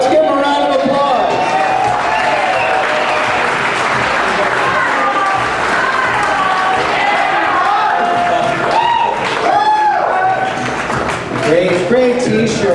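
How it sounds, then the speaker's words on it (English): Crowd applause and some cheering for a couple modeling slogan t-shirts at a Kraut Kickoff event, loud sustained clapping from a large audience with voices mixed in. "Let's give them a round of applause"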